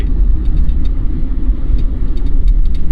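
Inside a 1988 Mazda 323 on the road, a loud, steady low rumble of engine and road noise carries through the cabin as the car rolls over a dip by the gutter.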